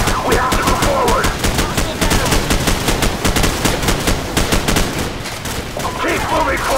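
Call of Duty 4: Modern Warfare gameplay with loud, continuous gunfire: rapid automatic bursts and single shots crackle close by without pause through the whole stretch.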